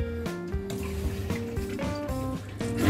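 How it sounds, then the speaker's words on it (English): An RV's Dometic macerator toilet flushes with a running motor whine that steps through changing pitches as water moves. The sound is steady and close, with no voices. "I hit my flush button over here."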